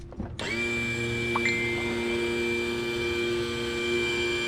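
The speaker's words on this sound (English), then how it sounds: "I gotta trim my motor up before I break it." A boat's outboard motor whines steadily with a strong sustained tone, kicking in abruptly after a short burst of noise and holding constant and close while being trimmed up on a fishing trip, with no talk.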